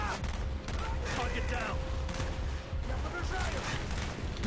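Enemy gunfire in Call of Duty Black Ops single-player campaign, dense overlapping bursts of shots filling the whole moment amid game noise.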